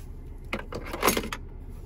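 A 2025 BMW X3 M50 key is handled, giving a few short metallic jingles and clicks close by in a quiet interior.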